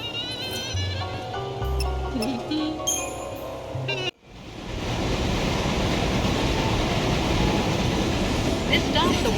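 Train sounds from the video game Final Fantasy Lightning Returns: tonal game music and chimes give way after a sharp cut to a loud, steady rushing roar like a moving train, continuing to the end.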